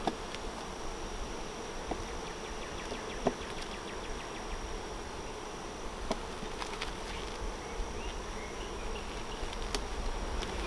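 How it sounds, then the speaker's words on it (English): Dense, steady buzzing of many honeybees on a hive frame close by, a continuous hum with faint higher whines from individual bees passing. "This next frame has a lot of bees on it."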